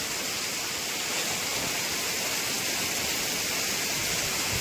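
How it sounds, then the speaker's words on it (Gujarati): Heavy monsoon rain pours steadily in Saurashtra while water runs through the street, making a loud, dense, unbroken roar that never eases. "જોરદાર એટલે જોરદાર વરસાદ ચાલુ છે"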